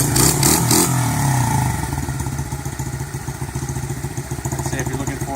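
An SSR-70C pit bike engine running after six months in storage, a close revving burst that settles into a loud, rapid, clattery single-cylinder putter at idle.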